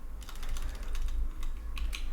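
Keys tapped on a computer keyboard while entering square brackets into a ChatGPT prompt, a quick run of close, crisp clicks in small bursts with brief pauses between them, no voice.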